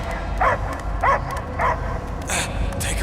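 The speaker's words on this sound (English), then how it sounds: "I hear only barking." A dog in the Guardians of the Galaxy video game barks several times in quick succession, with short yipping barks spaced about half a second apart over a low ambient hum.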